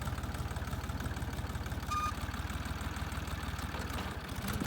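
A Dongfeng 254 tractor engine idles with a steady, rapid low chugging pulse that stays even and close throughout, with no talk.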